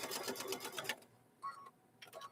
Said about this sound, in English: I'm just going to stitch right down here